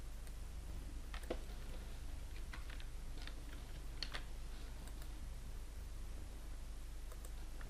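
Quiet computer keyboard typing, scattered close keystrokes and brief bursts over a steady low background hum, with no talking.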